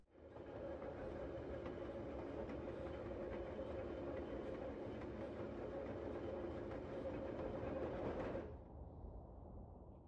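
Steady rumbling train ride from the video game Parasite Flower, a continuous clickety-clack of wheels on rails that holds at an even loudness, then drops off sharply near the end to a quieter low hum.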